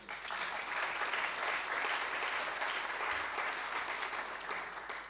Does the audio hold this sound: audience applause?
yes